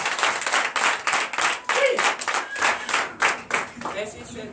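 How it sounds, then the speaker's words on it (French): A church congregation at a Sunday worship service claps in a lively, evenly spaced rhythm, each sharp clap clearly separated, with voices calling out beneath the beat. "Donnez encore l'acclamation à Jésus."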